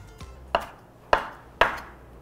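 A knife cuts vegetables into 1 to 2 cm pieces on a board for cucumber and chili water kimchi. Three crisp, separate chops land close up and roughly evenly spaced, with a quiet pause between them.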